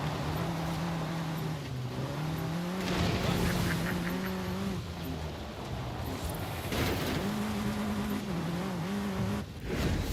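Race car engine in the Forza Horizon 5 video game, a steady droning tone that rises and falls in pitch through gear changes, with tire squeal and loud bursts, continuous and close throughout.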